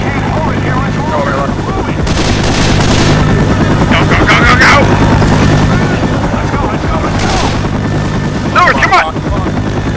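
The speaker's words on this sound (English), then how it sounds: "Get to the chopper!" A helicopter's heavy rotor thump drones throughout a Left 4 Dead battle while bursts of gunfire crackle in clusters; shouting voices cut in over the loud, dense mix.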